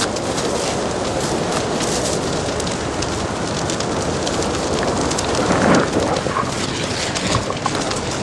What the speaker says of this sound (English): these flames behind me were actually set by the firefighters as part of a burnout